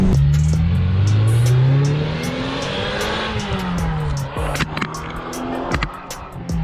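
A Ferrari engine roars loudly as it climbs through the revs and pulls away, the pitch rising and falling under heavy wind and road noise with scattered clicks and knocks, heard from inside the moving car.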